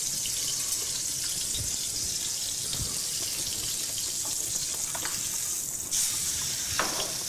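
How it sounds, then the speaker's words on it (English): Coho salmon sears in a hot pan with a steady, dense sizzle that runs continuously and close, with a few faint clinks and water-like splashes near the end. "Got a nice little sear going on our fish."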